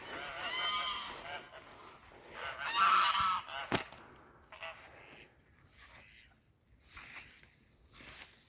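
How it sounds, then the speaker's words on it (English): Geese honk in short, nasal bursts at moderate distance, a few calls scattered across the clip with outdoor rustling between them. "My geese."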